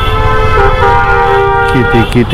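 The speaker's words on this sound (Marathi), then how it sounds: "किती हॉर्न." Vehicle horns honk in busy traffic, sustained tones running through the whole stretch with a voice talking over them.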